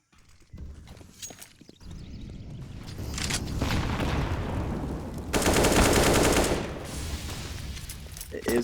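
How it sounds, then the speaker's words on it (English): Rapid automatic gunfire in a Counter-Strike match, with bursts of fast shots building into a dense rattle mixed with other game effects, under a commentator's voice. "It is going to be the fast gunfire coming out."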